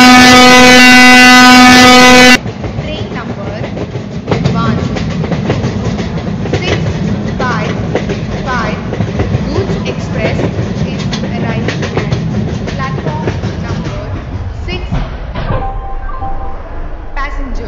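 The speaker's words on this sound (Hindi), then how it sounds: "थोड़ी सी ट्रेन को स्लो कर लेते हैं गाइस, क्योंकि स्टेशन हमारा लगभग आ गया है" A double-decker express train in an Indian train simulator game rumbles and clatters with steady rolling wheel noise as it slows, opening with a chime tone and fading near the end, with someone talking over it.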